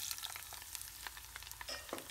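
Onions fry in three tablespoons of melted ghee with cinnamon, cardamom and cloves, making a faint, close crackling sizzle with scattered small pops for about two seconds.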